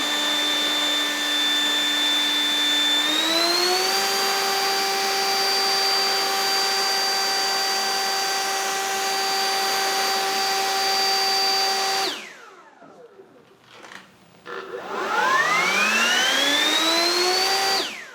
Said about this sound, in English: what the third level is on this leaf blower, but I guarantee it's over 100 miles an hour